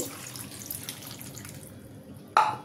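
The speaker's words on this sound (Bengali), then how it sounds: "সিদ্ধ হওয়ার জন্য পরিমাণ মতো পানি দিয়ে দিব।" Water runs steadily into a cooking pot holding small chicken pieces, papaya and carrot for a vegetable curry, a soft continuous pour that ends with a brief louder splash.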